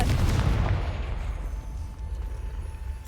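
A Confringo blasting spell explodes in the Hogwarts Legacy video game, a loud deep boom that rumbles and fades away over about three seconds.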